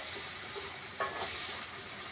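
Masala paste fries in a pan for a paneer and cashew curry, giving a soft, continuous sizzle with one brief stirring scrape midway, quiet and steady throughout.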